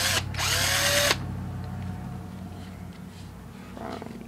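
A power drill with a 7/32 bit whines loudly for about a second, its pitch sliding as it spins up and bores in, then cuts off, leaving quiet room tone with a faint later clatter.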